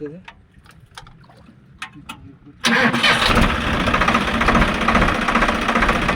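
A Swaraj 744XT tractor's engine starts in a muddy field after quiet clicks and talk, catching abruptly and settling into a loud, steady close idle rumble.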